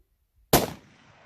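A single sharp rifle shot fired at a mule deer buck during a hunt in Mexico, loud and close, with a brief echo trailing off afterwards.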